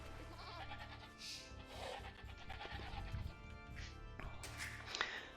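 Sheep bleat in Age of Empires 2, several short game-sound bleats over a steady low background, moderately loud and close.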